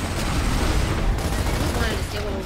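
Dense, continuous gunfire and explosions from the video game Gears of War, loud and unbroken throughout the short moment.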